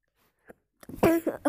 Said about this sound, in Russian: Ой, чихнул.